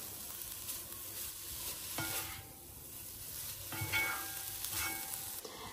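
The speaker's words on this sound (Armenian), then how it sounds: "Այս բոլորը լավ խառնում եմ, 2 րոպե տապակում եմ բոլորը միասին" A buckwheat and vegetable mixture fries in a pan, giving a steady low sizzle with a few soft stirring scrapes, fairly quiet and with no talking.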